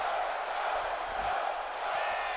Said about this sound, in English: This crowd cheers and roars for Joe as he makes his way towards Aleister Black